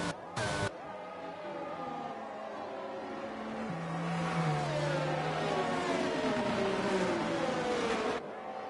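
Safety car engine in a racing video game during a Portugal race, a sustained whirring drone with shifting pitch as it accelerates and changes gear, loud and continuous without talk.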